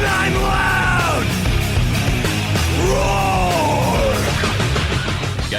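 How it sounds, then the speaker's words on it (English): A man yells and screams in a raspy early-90s heavy metal style, loud and unbroken, his voice swooping up and down in strained, drawn-out cries. "I'm yelling and screaming and I'm loud."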